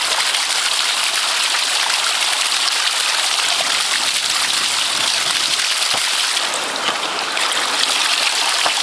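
Water gushes hard and steadily from a ram pump under renewed pressure, a loud, close, continuous rushing spray with no break across the whole stretch.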